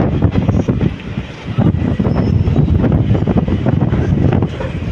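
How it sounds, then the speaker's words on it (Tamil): Strong wind roars steadily past an open window of a moving passenger train in Tamil Nadu, a loud continuous rumbling buffet with no voices. "காற்று நல்லா அடிக்குதுங்க"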